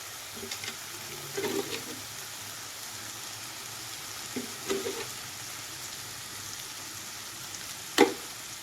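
Okra sizzles in a pan over full flame, a faint, steady frying hiss with a few soft stirring scrapes and one sharper clink near the end; no one speaks.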